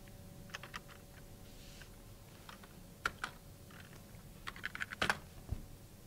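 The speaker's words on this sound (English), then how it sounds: "And then we could type the IP address." Someone types an IP address on a computer keyboard, a quiet, uneven patter of individual key clicks with short pauses and a small cluster of faster taps near the end.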